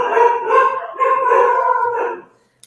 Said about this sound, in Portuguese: mas os cachorros não contribuem comigo. Eles estão lá fora, mas fazem um barulhão às vezes.